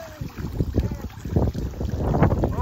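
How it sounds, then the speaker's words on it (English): Gusty wind buffeting the microphone outdoors near water, with irregular low rumbling bursts rising and falling in strength and no talking over it. "Oh, it's so windy guys."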